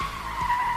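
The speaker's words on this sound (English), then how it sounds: "A car skidded off the road and hit a tree" A car skids off the road before hitting a tree, a sustained high tire squeal with steady tone, moderately loud and heard alone without talk.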